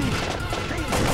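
Rapid bursts of gunfire from the light-gun shooter Time Crisis, played on a PS1 emulator, sound dense and continuous over about a second with no pauses, loud and close.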